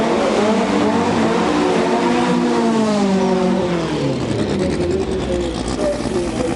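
A dragster screams down the drag strip at Bug Jam 20 in 2006. The loud engine roar climbs in pitch through rapid gear-like sweeps and dominates throughout, with faint commentary barely audible beneath it.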